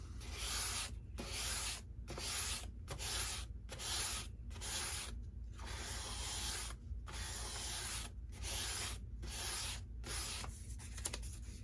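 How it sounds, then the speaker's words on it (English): Hand sanding of factory paint on an FMS 70mm F-18 Blue Angel foam model jet, steady close scratchy rubbing strokes in repeated passes with brief pauses between them, no talking. "I mean, you're doing some sanding,"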